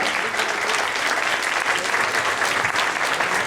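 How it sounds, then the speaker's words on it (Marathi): Dense, steady applause from a seated audience cheering a performance team, continuous and full for the whole stretch with no voices over it. "या सगळ्या टीमसाठी पुन्हा एकदा जोरात टाळ्या."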